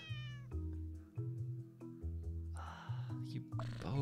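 Cat meows from the puzzle video game Cats Organized Neatly, a few short calls standing out over steady game background music with repeated low tones, and a brief noisy burst partway through.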